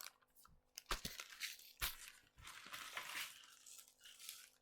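Small hard beads rattle and crinkle inside a plastic bag, a run of rustling, clicking handling noises close up, with no voices.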